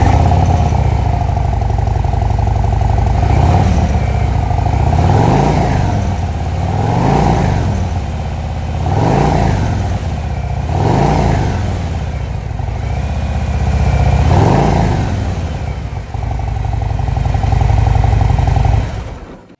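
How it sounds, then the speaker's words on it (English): A 2025 Harley-Davidson Low Rider S idles with a loud, close exhaust note and is blipped into several rhythmic revs that rise and fall, with no talking over it. "You hit the start button, she powers right up, and you just hit the start button here on the right-hand control."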